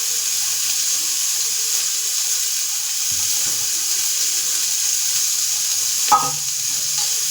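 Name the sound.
boiled horse gram frying in tempering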